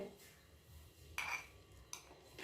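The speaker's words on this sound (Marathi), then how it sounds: "आता आपण एका प्लेटमध्ये काढून घेऊया" Green chili thecha scraped from a small mortar onto a plate, with soft clinks and scrapes of utensil on dish, two sharper knocks standing out near the end over a quiet kitchen background.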